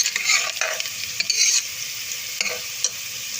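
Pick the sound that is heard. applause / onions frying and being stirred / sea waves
onions frying and being stirred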